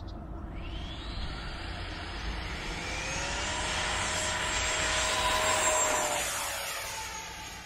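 A radio-controlled Freewing F18 model jet powered by an FMS 90mm 12-blade electric ducted fan, 6S, flying on a test flight: a smooth, steady whine that swells and sweeps in pitch as it passes, fairly near, with no talk.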